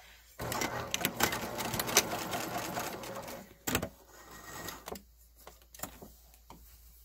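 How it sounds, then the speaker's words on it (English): A sewing machine stitches quilt strips in quick, steady bursts, stopping and restarting a few times at close range, with a brief thump between runs and no speech. "I'm going to sew off here."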